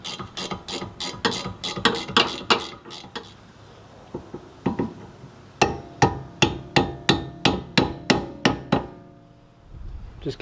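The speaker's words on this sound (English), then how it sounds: "Just give it a few taps, put it in place." Sharp metallic hammer taps on a brake assembly while seating a part on a car with a seized caliper, coming in quick bursts, then a steady run of about ten evenly spaced, ringing strikes close by.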